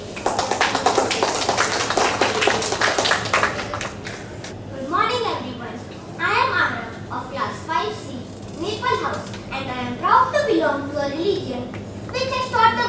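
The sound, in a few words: audience applause after a student's speech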